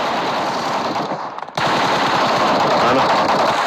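Machine gun fire in the PUBG Mobile video game rattles loudly and continuously, dipping briefly in the middle before resuming as sustained rapid bursts.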